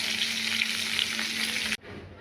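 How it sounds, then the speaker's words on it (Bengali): Eggplant frying in oil in a pan for a Bengali mixed-vegetable dish, a steady close sizzle that cuts off abruptly near the end, leaving quiet room tone. "বেগুনটা ভাজছি"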